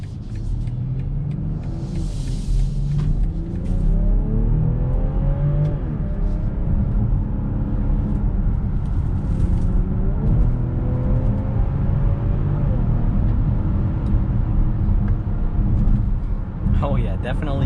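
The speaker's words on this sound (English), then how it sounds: "you could hear the turbos in this X5" A 2022 BMW X5 turbo engine pulls hard in sport mode onto a highway, heard from inside the cabin as a steady loud rumble with rising whirs that climb and shift, under ongoing talk.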